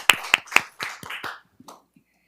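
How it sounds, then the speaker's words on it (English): A short round of applause at a board meeting, just a handful of sharp, distinct claps in quick succession that fade within a second or two, sparse and fairly close, with no talking. "Give them a round of applause, please."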